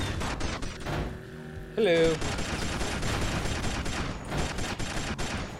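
Shots fire from a car in Burnin' Rubber 5 HD, a game with weaponized vehicles. A dense, steady stream of rapid gunfire runs under engine and game noise, and a voice speaks briefly.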